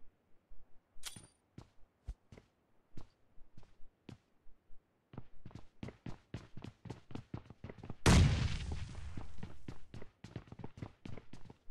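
Gunfire in PUBG Mobile on the Livik map: sharp single shots crack out one after another, some distant and faint, then a louder close burst with a long ringing tail followed by rapid continued shooting.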